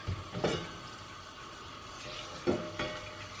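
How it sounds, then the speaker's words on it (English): Curry chicken feet being stirred in a pot, with a spoon scraping and sloshing through the thick sauce in two short bursts over a soft steady sizzle, close by and fairly quiet. "So let's give it a stir around in the pot."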